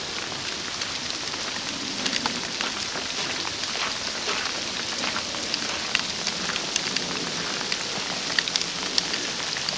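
Freezing rain mixed with sleet comes down steadily over a garden with ice-laden trees, a dense, even hiss of fine pattering with scattered sharper ticks of drops and pellets throughout.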